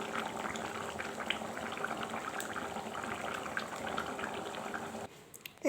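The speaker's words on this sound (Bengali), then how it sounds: "ঝোলটা ফুটে গেছে" Egg and potato curry gravy bubbles at a rolling boil in a pot, a close, dense, continuous fizzing burble with no voices, cutting away abruptly near the end.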